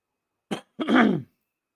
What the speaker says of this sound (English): You coughed and then you muted.